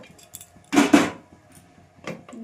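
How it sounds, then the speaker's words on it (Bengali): A metal lid is set back onto a cooking pot while making pui shak ghonto, giving a sharp metallic clatter and rattle, with a fainter clink shortly after. "এবার ঢাকনা দিয়ে আবার ঢেকে দেবো।"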